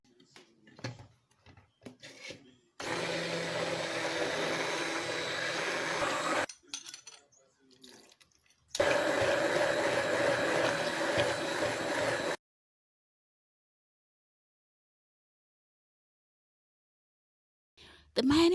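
A blender mixing egg, oil, sugar and vinegar into mayonnaise whirs loudly in two bursts of several seconds each, separated by quieter clattering, then falls silent before a brief noise at the end.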